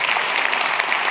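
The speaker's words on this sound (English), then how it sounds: "Give him a random applause" A conference audience breaks into applause for Bruce Schneier, a bright, dense wash of many clapping hands, loud and continuous for the brief moment.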